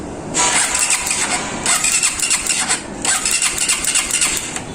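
A motorcycle with a faulty engine is cranked over three times, each burst of starter whir and sputter lasting over a second before stopping, close and loud, without the engine catching.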